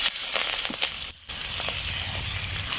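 Pieces of pangas fish hiss in hot soybean oil in a wok for a fish curry, a brief close broadband sizzle with a short drop in the middle.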